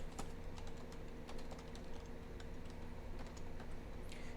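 Quick bursts of keystrokes on a computer keyboard as a terminal command is entered, light clicking taps over a steady low electrical hum, fairly faint and without talk.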